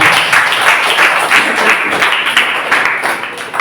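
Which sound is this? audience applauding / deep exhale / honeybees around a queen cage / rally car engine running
audience applauding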